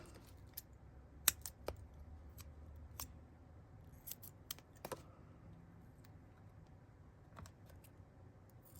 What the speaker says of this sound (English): Purple scissors.